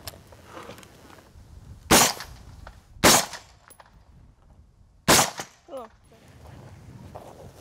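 Rifle shots ring out at a shooting practice, three sharp, loud cracks spaced a second or two apart with faint voices in between.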